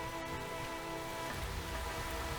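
Steady rain sound effect in the Space Engineers video game, a dense, even hiss of falling drops throughout, with no breaks.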